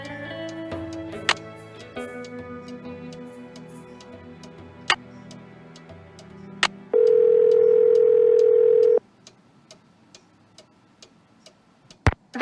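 A phone in a Nancy Drew game dialing: a series of sharp keypad clicks over a soft electronic hum, then a steady held tone for about two seconds, followed by more faint clicks.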